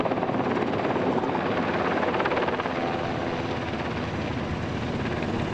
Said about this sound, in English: that's what this helicopter and many, many more are doing right now